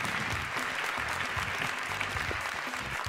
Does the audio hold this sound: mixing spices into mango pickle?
no